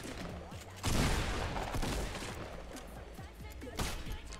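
Gunfire in the Fortnite video game, a quick burst of rapid shots followed by scattered further shots and impacts, fairly quiet overall.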